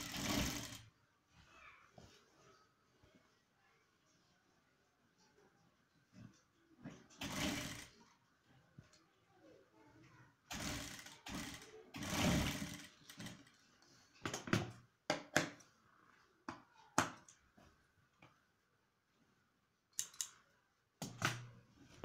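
A sewing machine stitching the sleeve of a men's pleated kameez, running in short bursts of rapid mechanical chatter separated by quiet pauses, close and fairly soft, with faint background noise between the runs.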